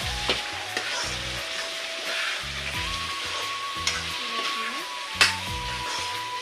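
Chicken with turmeric and salt frying in a hot pan while being stirred, a steady close sizzle broken by scraping strokes and a few sharp clinks of the utensil against the pan.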